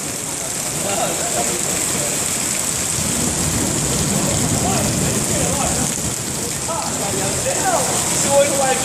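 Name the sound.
heavy rain with thunder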